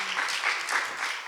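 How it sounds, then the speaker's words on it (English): An audience at a Black feminist politics talk breaks into applause, a steady, fairly distant wash of many hands clapping that holds the whole time, with no talk over it. "clap for them, clap for them, clap for them"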